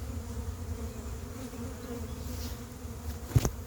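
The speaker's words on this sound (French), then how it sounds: "Il y a des abeilles encore là-bas." Honeybees from a swarm being hived at Montgeron buzz as a soft, steady hum, with a brief louder knock or rustle near the end and no voices.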